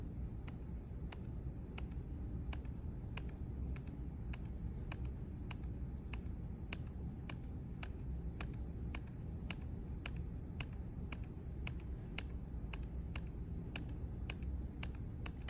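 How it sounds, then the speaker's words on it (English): A computer mouse clicks through presentation slides at a steady, even pace, a long row of crisp, faint, regularly spaced clicks over quiet room hiss with no speech. "you're clicking at a nice even pace"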